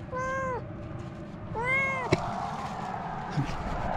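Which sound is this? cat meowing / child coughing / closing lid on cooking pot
cat meowing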